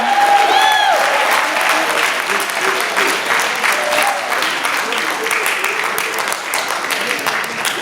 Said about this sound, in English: Y'all give another show a round of applause